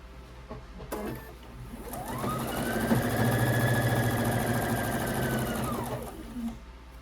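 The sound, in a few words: sewing machine stitching quilt halves together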